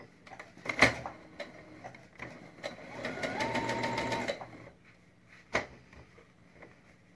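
A sewing machine labors on stubborn fabric: scattered clunks and knocks, then a short burst of fast stitching in the middle, then more isolated thumps and a sharp clack, all fairly close and moderately loud.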